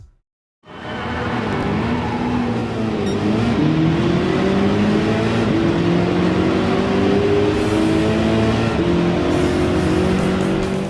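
Ford GT40 race car in Gran Turismo, its engine roaring loud and close for the whole stretch, pitch climbing steadily as it accelerates through gears, with a brief tire squeal.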